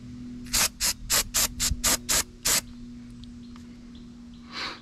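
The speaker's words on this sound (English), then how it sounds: "We gonna give it a little bit of spritz." Eight quick, evenly spaced hissing spritzes of cleaner are sprayed onto a part of a high-mileage LQ4 LS engine during a camshaft install. They are close and crisp, followed by a faint rustle.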